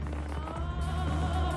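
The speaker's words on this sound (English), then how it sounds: "20 tonnes of fireworks set off to mark the new century." A massive New Year millennium fireworks display over a city, with 20 tonnes of fireworks, produces a dense, continuous roar of crackling bursts and booms throughout.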